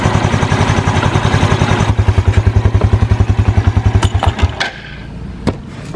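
A used motorcycle engine idles with its exhaust muffled by a cloth, giving a loud, close, rhythmic chugging pulse that stops near the end, leaving a few clicks and knocks.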